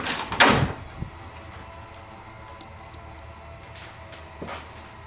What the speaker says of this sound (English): The attic door handle is jerking violently, like someone on the other side is desperately trying to get out.